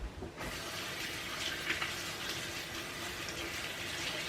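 A spoon rinsed under a running kitchen tap while making dandelion jelly, a steady close rush of water splashing over metal and into the sink, continuing for several seconds without speech.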